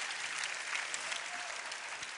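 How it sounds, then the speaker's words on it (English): An audience at a fitness event in Orlando claps together in a brief, dense burst of steady applause, fairly faint and distant-sounding, with only scattered crowd noise mixed in. "Round of applause for how amazing she looks"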